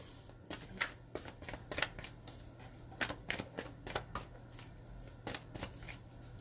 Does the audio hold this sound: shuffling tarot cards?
yes